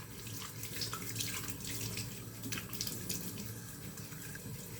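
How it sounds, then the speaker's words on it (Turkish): Tap water runs steadily into a sink while a face is washed with cold water after a shave, a close and continuous splashing rush with faint hand splashes and no talk. "Tıraşın sonunda yüzümüzü soğuk suyla yıkayalım."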